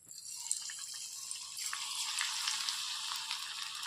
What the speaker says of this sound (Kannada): ಈಗ ಪ್ರಾನ್ಸನ್ನು ಬಿಡುವ ಅದಕ್ಕೆ ಎಣ್ಣೆಗೆ